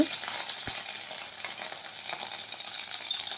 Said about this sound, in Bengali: কড়াই চারদিকে তেল ভালো করে ছড়িয়ে দিয়ে এক এক করে মাছের ডিমের বড়া আমি ভেজে নেব